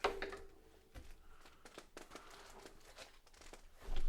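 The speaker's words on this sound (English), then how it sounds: "We're just struggling to open a box here." Cardboard box being opened with crinkling and tearing of paper packaging, scattered rustles and crackles at close range, with a couple of sharper handling thumps and no talk.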